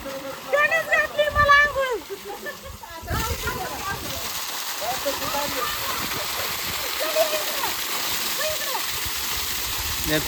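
Water runs and splashes for a bath at home, with people talking over lively splashing at first, then a steady rushing flow continues on its own.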